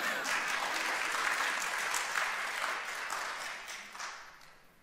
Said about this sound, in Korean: 이럴 때 박수하셔도 되는데.